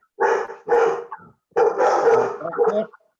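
A dog barks nearby over a video call: two quick sharp barks, a short pause, then a longer drawn-out bark, loud and close with no talking over it.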